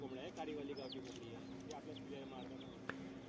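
Several desi hens cluck and chatter nearby in a busy poultry setting, with a brief sharp knock near the end.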